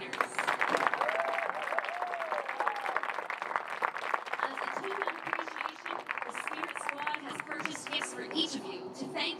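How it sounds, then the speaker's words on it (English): A crowd applauds the seniors at a fall sports senior night in a school stadium, sustained clapping with cheers and voices mixed in, steady and moderately loud from start to finish. "Let's give a round of applause for all of our seniors."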